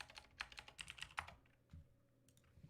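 Quick burst of keystrokes on a computer keyboard, close and faint, a rapid irregular clatter for about a second and a half, then a few scattered taps.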